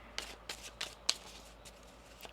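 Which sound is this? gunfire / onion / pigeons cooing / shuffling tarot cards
shuffling tarot cards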